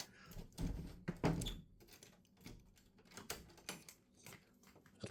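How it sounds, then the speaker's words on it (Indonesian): A hotel room door at a beach resort on Weh Island, Sabang, Aceh is pushed shut, giving several close knocks and a latch clunk with faint handling rattles in a quiet room. "Biar aku tutup dulu pintu ya."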